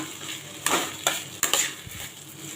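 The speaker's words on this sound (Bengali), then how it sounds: "চালটাকে ভালো করে ভাজা ভাজা করে নেবেন" Rice being fried and stirred in a pan for pulao, with a few sharp spatula scrapes and knocks against the metal over a soft, steady sizzle, close and moderately quiet.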